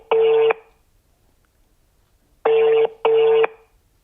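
Repeated telephone ringback tones: one buzzy ring, a long silence, then two more rings close together, clear and steady with no talking.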